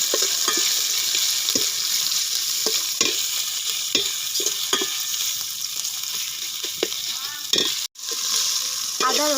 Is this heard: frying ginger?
yes